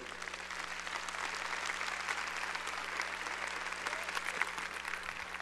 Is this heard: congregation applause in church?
yes